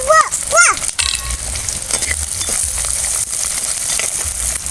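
Urad dal, chana dal and onion frying in a pan, a loud, close sizzle with stirring scrapes and a few high squeaky scrapes at the start, continuing steadily.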